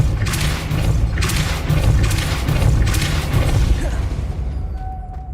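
Depulso force spell blasts in the Hogwarts Legacy video game, a loud continuous run of booming, thudding impacts and crashes that fades out at the end, with no speech.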